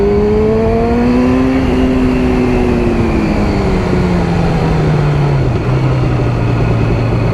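A Yamaha R6 5EB motorbike with a known problem rides along winding roads. Its engine is loud and close, holding a steady note that slowly drops in pitch as the bike eases off, under heavy, continuous wind rush.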